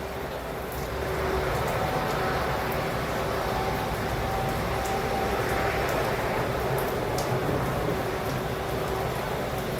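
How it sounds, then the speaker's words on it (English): Heavy, continuous roar of vehicles passing on a highway during a tropical storm, a dense broadband wash that could also be rain or road spray, steady and loud throughout with no distinct individual passes or talking. "These are some very loud vehicles on the highway"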